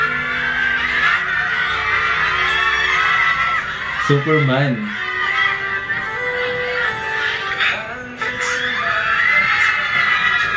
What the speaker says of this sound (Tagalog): Grabe yung crowd, no?